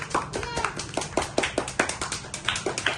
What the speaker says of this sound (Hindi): चलो भी सारे तालियां बजा दो भी सारे।